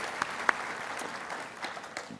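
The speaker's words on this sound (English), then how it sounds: "give yourself a round of applause" Steady applause from a festival audience fills the space, a dense patter of clapping at moderate volume with a couple of sharper claps near the start.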